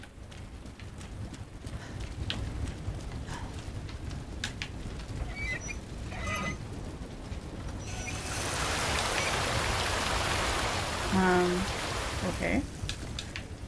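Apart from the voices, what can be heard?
rain falling in the video game Resident Evil 2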